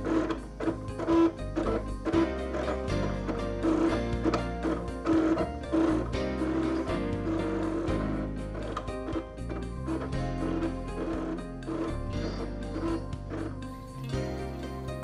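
A Cricut cutting machine draws with a Cricut marker at high speed and low pressure, with a steady close mechanical whirring broken by rapid stepper-motor ticks and buzzing pitch shifts as the carriage darts back and forth.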